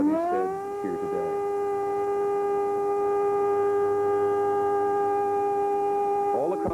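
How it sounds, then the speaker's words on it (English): A long, steady air-raid siren wail holds one sustained tone for several seconds, loud and continuous over faint background noise, sounding nationwide in Israel during Yitzhak Rabin's funeral. "All across the nation now, the sirens begin to ring."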